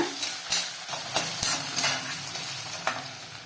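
Onion, green chillies and curry leaves sautéing in a pan with soft sizzling and occasional stirring scrapes, steady and close, no voices.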